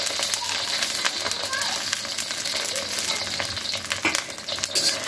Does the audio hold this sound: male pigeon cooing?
no